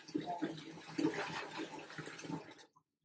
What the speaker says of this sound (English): So we are going to wet her hair first.